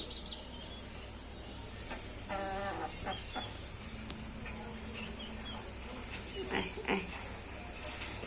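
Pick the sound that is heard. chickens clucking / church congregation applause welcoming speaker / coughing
chickens clucking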